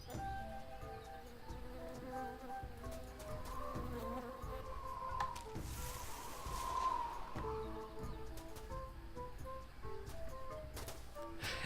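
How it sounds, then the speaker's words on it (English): A bee buzzes faintly amid quiet outdoor ambience in the Tales of Monkey Island adventure game, a soft drifting hum that swells briefly near the middle over low background tones. "I heard a bee just as I walked through."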